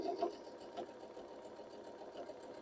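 Sewing machine stitching layered quilt fabric for half-square triangle blocks, a quiet close mechanical whir with a brief louder burst at the start, running alone without speech.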